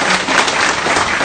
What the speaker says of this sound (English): Can we give Lani a big round of applause